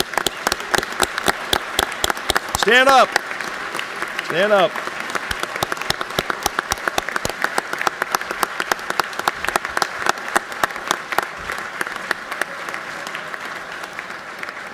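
Sustained applause fills the Georgia House of Representatives chamber as legislators honor a team, dense clapping running throughout, with a voice calling out over it near the start.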